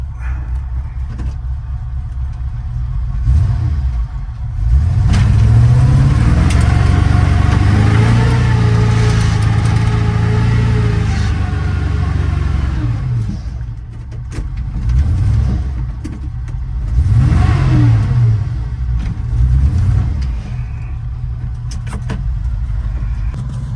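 A SquareBody 4x4 pickup truck engine revving hard while driving, loud and close, with repeated surging rises and dips in pitch as the throttle opens and eases off.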